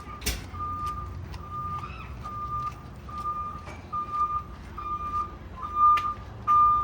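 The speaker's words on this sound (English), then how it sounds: "And I have an audible on my reverse." A school bus reversing alarm beeps in a steady, evenly spaced series of sharp high tones, fairly close, over a low idling engine rumble with no talk.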